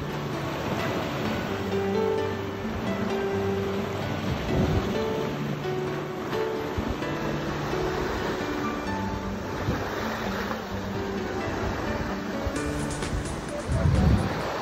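Sea waves wash and roll continuously against a windy background, with faint music and occasional voices mixed in.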